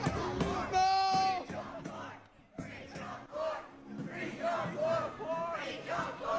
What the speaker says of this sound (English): imagine this has lifted the spirits of John, seeing many children chant his name in unison.